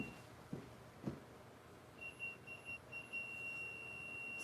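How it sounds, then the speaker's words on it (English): Kitchen timer beeping faintly in a home kitchen while macarons bake, a short run of thin electronic beeps at a distance over low room noise. "Turn off timer."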